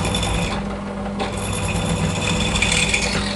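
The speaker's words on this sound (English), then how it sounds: "Lifting the drill to break the chip." A drill bores holes in stainless steel with a harsh, continuous grinding rasp, dipping briefly near the start as the bit lifts to break the chip, then resuming loud and close.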